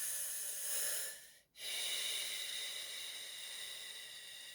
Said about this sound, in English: pursing the lips a little like you're breathing through a straw and breathing in and out through the mouth